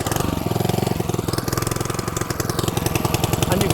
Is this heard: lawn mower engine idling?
yes